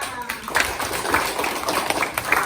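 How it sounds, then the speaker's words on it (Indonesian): Classroom hand clapping at a school lesson, a run of uneven claps mixed with children's voices and background chatter, steady and moderately loud throughout. "Tepuk tangannya."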